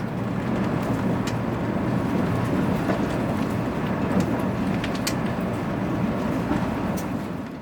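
Steady interior rumble of an ITX-Maeum train running nonstop between stations in Korea, a continuous low drone with faint rattles and creaks, unbroken and moderately loud.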